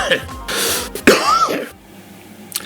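A person clears phlegm from the throat in a loud, close, rasping burst that swells and then fades, with a short wet rattle partway through and a quieter breathy trail at the end.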